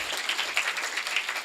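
An audience at an education talk breaks into loud, close applause, with many hands clapping in a continuous, slightly pulsing roar.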